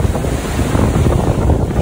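Ocean waves break on a sandy beach while surf fishing for croakers with sand fleas, a steady loud roar of surf with heavy wind buffeting the microphone and no talk.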